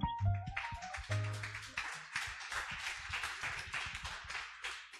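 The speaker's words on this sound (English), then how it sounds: "Let's give him a round of applause" A co-working space crowd applauds as its CEO is invited up, opening with a short tonal hum, then scattered hand claps building into denser clapping, close and moderately loud.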